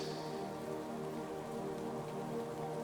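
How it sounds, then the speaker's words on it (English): Steady rain pattering on surfaces outdoors, a continuous, even wash of drops close around with no gaps, alone without voices. "listening to the water, the rain"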